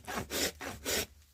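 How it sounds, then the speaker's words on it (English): Farrier's rasp filing the toe of a horse hoof on a cadaver leg, with four rhythmic, close, gritty rasping strokes in quick succession and no talking. "going to rasp this toe with an angle of 2 fingers at the back"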